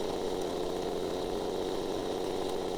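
A small engine runs steadily at roughly 5,400 RPM, a constant close, loud mechanical whir and buzz with no pauses and no talking.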